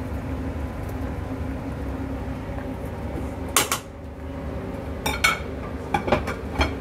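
A knife roughly chopping two small hot chilies on a board, a few sharp taps and short clusters of cuts over a steady kitchen hum.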